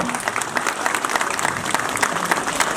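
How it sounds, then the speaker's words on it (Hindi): An audience at a Christmas celebration in Dehradun claps to welcome a visiting pastor, a fairly distant, continuous patter of many hands with scattered sharper claps and a faint crowd murmur. "अपने ताली बजाइएगा"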